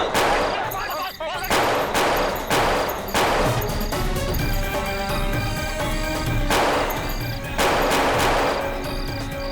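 Gunfire bursts in a Hindi CID crime drama scene, a series of loud repeated shots and volleys in quick clusters over a busy, dense background, filling most of the stretch.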